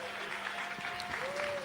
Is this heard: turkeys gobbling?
no